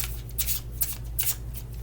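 A deck of tarot cards being shuffled by hand, soft papery flutters and riffles in several quick bursts, close by.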